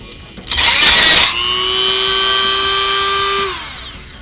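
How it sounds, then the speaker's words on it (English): A power drill bites through a plastic cyclometer with a loud gritty burst, then settles into a steady high whine that runs for a couple of seconds before spinning down; close and loud, no speech. "We got a hole drilled through here"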